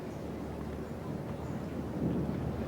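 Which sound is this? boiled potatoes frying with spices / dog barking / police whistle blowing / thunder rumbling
thunder rumbling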